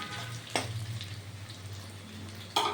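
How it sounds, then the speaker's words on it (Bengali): Onion and potato frying in a pan give a steady low sizzle throughout, with two sharp clattering scrapes near the start and end, no voices. "পেঁয়াজ আর আলুটা সামান্য ভাজা ভাজা হয়ে এসছে"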